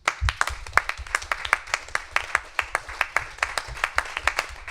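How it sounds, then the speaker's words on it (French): Sparse audience applause at a signing ceremony, a small group clapping in distinct, fairly regular individual claps, moderately close, for nearly five seconds. "moi je vous propose des applaudissements particuliers pour Romaric et pour son équipe."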